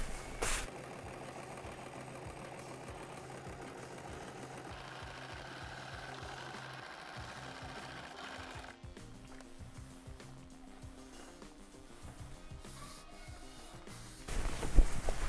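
A domestic sewing machine stitches a double-folded trouser hem, running in a steady mechanical whir with faint rhythmic needle ticks, then shifting to a lower, quieter drone partway through before a brief louder clatter at the end.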